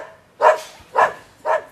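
Dog barking sound effect played for a guessing game: three loud, evenly spaced barks about half a second apart, close and clear with quiet gaps between them.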